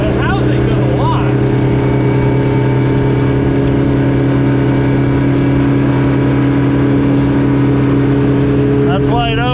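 A 1973 Cobalt boat with a Mercruiser 165 hp engine runs steadily at wide open throttle, a loud, constant low drone with a droning whine above it throughout, and voices speak faintly over it.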